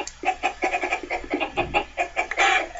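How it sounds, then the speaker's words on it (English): Chickens in the Minecraft Crazy Craft modpack cluck in a quick, choppy series of close, fairly loud bursts, one after another for about three seconds with no talk. "you gotta be careful, because if you kill too many chickens"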